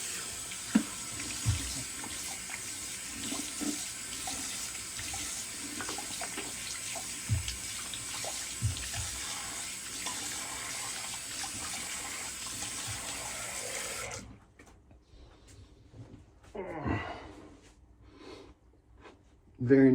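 Cold water runs from a bathroom tap into a sink, a steady splashing rush with small knocks that stops abruptly partway through, followed by quieter handling sounds and a brief voice.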